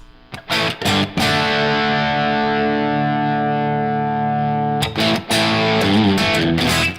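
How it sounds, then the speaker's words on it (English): An electric guitar through a Blues Driver overdrive pedal rings out in loud distorted chords: a few choppy strums, then a long sustained chord, then more struck chords, saturated and gritty. "It's basically just a blues driver creating all that overdrive."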